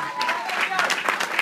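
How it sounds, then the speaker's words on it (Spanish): A church congregation applauds the priest during a sermon. The dense, steady clapping runs throughout, with a voice audible over it at the start. "Den un aplauso al Padre."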